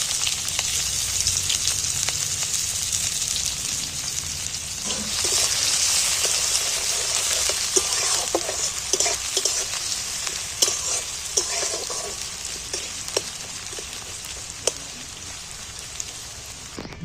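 Chopped onions sizzle and crackle steadily in a frying pan after eggs have been lightly fried, with scattered sharp pops and occasional stirring clinks, close and continuous with no talking.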